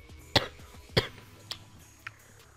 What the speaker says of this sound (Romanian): Scuzeți că tușesc în videoclip.